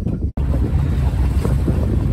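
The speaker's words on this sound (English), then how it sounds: "So I'm now motoring back inside." A small fishing boat motoring on the sea off Great Yarmouth, Norfolk, its engine drone buried under steady loud wind buffeting the microphone and the wash of water, with one brief dropout near the start.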